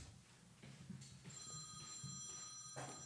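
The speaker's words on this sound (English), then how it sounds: "That's a house phone." An old-style house landline phone rings nearby with bright, repeating bell trills that rise in bursts over faint room noise, and nobody speaks.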